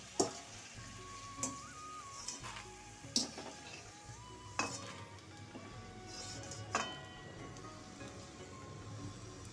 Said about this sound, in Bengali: বাদামটা ভাজা হয়ে গেছে, এবার বাদামটা কড়াই থেকে তুলে নেব।